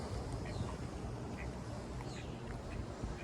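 Ducks at a creek-side park quack in scattered short calls over a low outdoor rumble, fairly faint and at a moderate distance.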